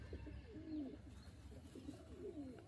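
Young pigeons coo softly in a loft, several low, rolling calls repeating close by over a quiet background.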